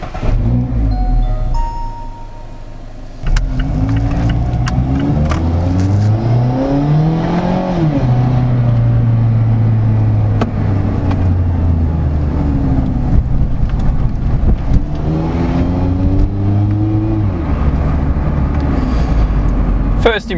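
A car fitted with a Goodwin Roadstersport exhaust drives around the block. The engine hums steadily, rising and falling through gear changes, with a speaking voice running over it most of the way.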